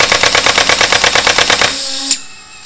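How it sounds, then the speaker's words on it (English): A Nerf blaster's solenoid fires in a fast, even burst of sharp mechanical clacks for about a second and a half, loud and close, then ends with a brief click and a fading whir. "then it will trigger the solenoid and the muzzle flash LED"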